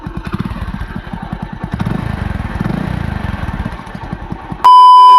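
An old motorcycle, started with its self-starter, idles close by in a steady, loud putter of rapid thumps, until a sharp electronic beep abruptly cuts in at the end.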